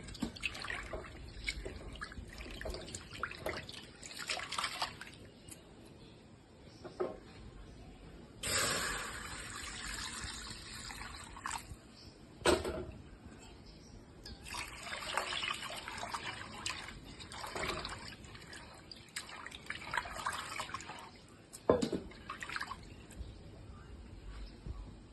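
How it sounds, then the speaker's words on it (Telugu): Water splashes and trickles into a pot of washed toor dal, with irregular pouring bursts and drips close by and no talking. "ఇప్పుడు ఇంకా కొంచెం వాటర్ పోసుకున్నాం"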